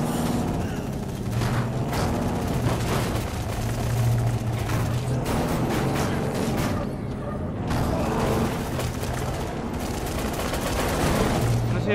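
Dense, continuous gunfire from the Dead Rising 3 video game, with bursts and booms packed together across the whole stretch at a steady loud level, mixed with game music and effects.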